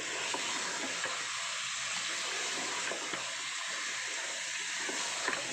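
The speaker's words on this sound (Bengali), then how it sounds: "আমি সমস্ত মশলার সঙ্গে চিকেনটাকে ভালোভাবে কষে নিচ্ছি" Chicken pieces browning with spices inside a pressure cooker make a continuous close sizzle and crackle, with faint stirring scrapes running through it and no talking.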